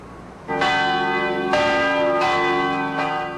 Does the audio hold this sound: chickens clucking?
no